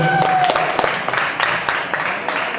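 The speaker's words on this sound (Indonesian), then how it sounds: "Tepuk tangan untuk pasangan calon nomor urut 3." An audience at a student executive board candidate debate applauds candidate pair number 3, a short burst of scattered clapping with distinct individual claps, a faint tone at the start, fading slightly.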